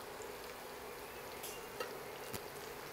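Besan-coated peanuts frying in a pan of oil give off a faint, steady soft sizzle with a few tiny pops, alone and without talk.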